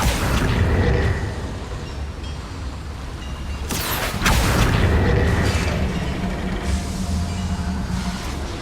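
In the Hogwarts Legacy video game, a Confringo blasting spell sets off a sudden booming explosion inside a mine. It breaks through a steady rumbling background and leaves a lingering roar, with no talk.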